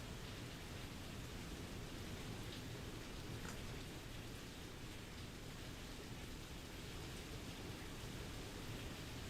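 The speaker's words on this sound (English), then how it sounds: "Yeah, it's definitely hailing out." Steady rain with hail pouring down in a storm in Pokémon Legends: Z-A, a constant dense hiss of falling drops with a faint distant rumble, no voices.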